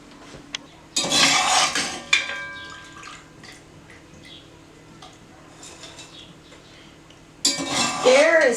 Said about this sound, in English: So I'm going to grab the pot off of the stove